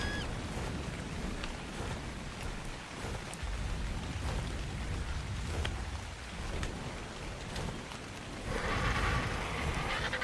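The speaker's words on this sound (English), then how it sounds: "I swear it rains a lot on Astraeos." Steady rain falls in ARK: Survival Ascended on the Astraeos map, a dense continuous hiss with scattered drop taps, growing slightly heavier near the end, with no voices.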